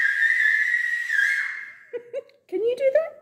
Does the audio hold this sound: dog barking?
no